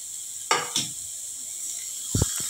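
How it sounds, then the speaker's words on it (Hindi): Vegetables roasting in oil in a pan over a medium flame, a soft constant sizzle with a few sharp clinks and scrapes of a utensil against the pan, close by. "इसको हम इसमें हल्का हल्का मीडियम फ्लेम पे ही भूनेंगे।"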